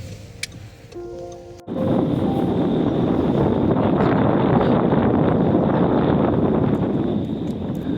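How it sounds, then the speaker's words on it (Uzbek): After a brief quiet moment, strong wind by the Müggelsee lake in Berlin suddenly buffets the microphone and keeps roaring steadily outdoors for several seconds. "shamol bor."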